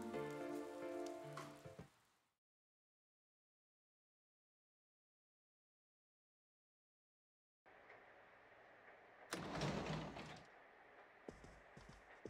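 Steady rain in the video game Persona 4 Golden patters for a couple of seconds, then a long stretch of silence before rainfall returns with louder splashy bursts and a clatter near the end.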